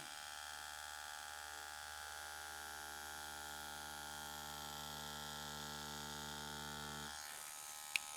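Steady electric buzz of a tattoo machine needle running continuously while tattooing, close and even in level, cutting off near the end with a brief click.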